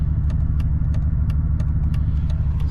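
A car engine running in limp mode with six cylinders shut down and misfires on both banks, idling with a steady low, uneven rumble and faint periodic ticking, loud and close, with no talk.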